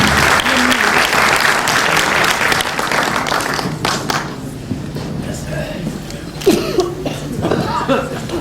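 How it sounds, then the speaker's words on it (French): An audience at a school conference applauds. Dense, loud clapping fills the first half, then thins out into scattered claps, light laughter and a cough. "On l'applaudit encore."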